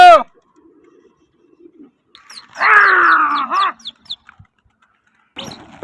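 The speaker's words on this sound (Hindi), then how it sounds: "कबूतर माशाल्लाह उड़ रहे हैं" Pigeons at a competitive pigeon-flying contest give a brief burst of cooing and chirping mid-clip, close and fairly loud, with faint calls before and after amid quiet background noise; a voice shouts at the start.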